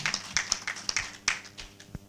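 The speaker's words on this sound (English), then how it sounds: "Let's give him a big round of applause." A small group applauds at a professional chapter meetup, scattered uneven claps rather than a full ovation, fairly close and thinning out toward the end.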